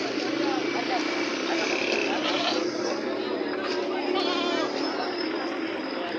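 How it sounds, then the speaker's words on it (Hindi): Barbari goats bleat among the crowd at a busy goat market, their calls blending into steady, loud chatter and bustle, with people talking throughout. "बरबरी बकरा"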